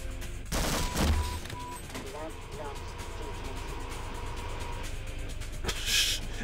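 Heavy booming shots and rumbling blasts from a tank in the shooter game Half-Life, two loud bursts at start and end with mechanical rumble between, under someone talking.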